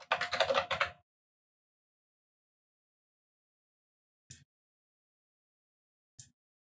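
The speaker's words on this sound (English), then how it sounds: "let's type in the word position" Typing on a computer keyboard, a quick flurry of clicks for about a second, then silence broken by two single isolated key taps.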